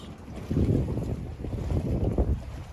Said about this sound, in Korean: 바람이 너무 심한데